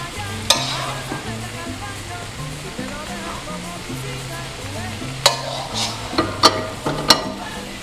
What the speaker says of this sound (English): the best way to check if the oil is okay, you put a little bit of salt